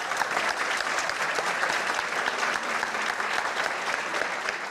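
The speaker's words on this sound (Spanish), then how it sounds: "Entre cánticos y aplausos arrancó el conversatorio." Steady, dense applause from an audience at a peace-process talk in Medellín, Colombia, filling the whole stretch without a break, close and even in level.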